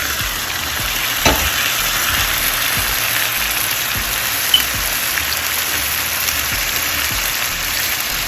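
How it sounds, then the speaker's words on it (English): Peppers, onions and garlic for a Jamaican brown stew chicken fry in a pan with a dense, steady crackling sizzle. A couple of utensil knocks stand out, the frying is close and fairly loud, and nobody speaks. "I'm going to throw in my peppers,"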